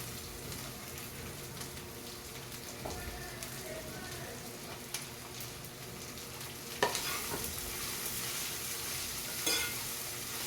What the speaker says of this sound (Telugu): ఇప్పుడు నేను ఉల్లిపాయలు పచ్చిమిర్చి వేసేసుకుంటున్నాను